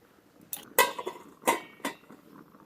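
A lid is set over a pot of taro greens cooked with a hilsa fish head, giving several sharp metallic clanks and clinks in a short burst, close and fairly loud, with no talking.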